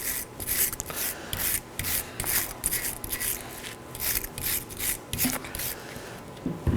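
Front brake parts on a 2018-2024 Chevrolet Equinox being scrubbed clean, a steady run of close, rhythmic rubbing and brushing strokes with short pauses between passes.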